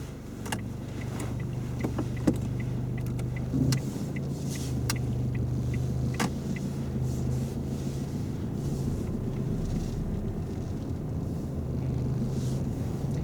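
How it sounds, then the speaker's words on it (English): A car engine hums steadily at low pitch while the car drives along a road, with tyre roar and wind buffeting the microphone and a few faint clicks from inside the cabin. "Do you want to start the car and we'll drive on?"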